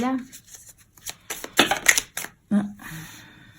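Tarot cards shuffled by hand, a series of short papery riffles and slaps in uneven bursts, close and crisp, with a voice speaking briefly between them.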